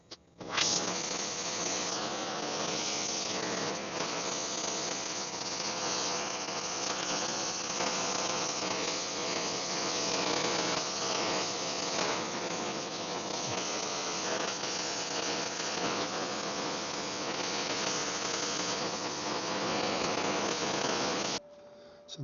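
A torch heats steel for bending on a brolga bird sculpture, giving a constant loud roaring hiss that runs steadily for about twenty seconds, then cuts off abruptly at the end.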